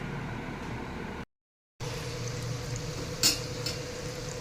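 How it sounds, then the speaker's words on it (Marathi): Mixed-lentil vadas fry in hot oil over low heat, a soft, even sizzle that holds steady apart from a brief silent gap, with a light clink of a utensil partway through. "तेल तापलेलं आणि त्याच्यामध्ये आता हे मी वडे घातलेले आहेत दोन्ही बाजूने आपल्याला हे छान खरपूस असे गोल्डन ब्राऊन होईपर्यंत तळून द्यायचे आहेत"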